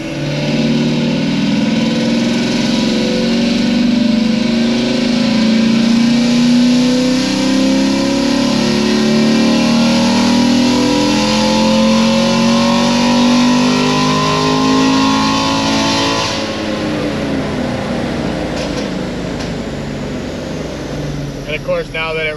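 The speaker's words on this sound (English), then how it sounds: "Trying to rev this fucker." A GM LT1 V8 being prepared for big power revs high and holds a loud, steady engine roar for about fifteen seconds, with rising harmonic tones as the revs climb, then settles as the throttle drops back.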